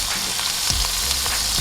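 Steak sizzling loudly in melted butter in a pan, a steady close hiss of frying with faint scrapes and small knocks from the pan, no voices.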